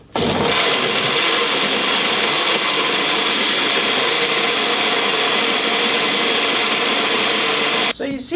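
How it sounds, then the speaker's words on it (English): A kitchen blender whirs loudly and steadily for about eight seconds as it blends smoothie ingredients, then cuts off abruptly at the end. "And then we're going to start blending."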